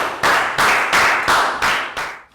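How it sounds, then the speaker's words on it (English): Six crisp bursts of classroom clapping for a pupil during a Year 3 maths lesson, loud and close, rising and falling in quick waves before cutting off. "High five and a big round of applause for Nadia, guys"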